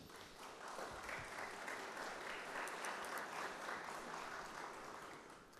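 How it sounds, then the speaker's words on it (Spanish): A seminar audience gives sustained applause for the speakers at an international democracy event, steady even clapping that holds for several seconds, fairly faint and distant. "Un fuerte aplauso para ellos."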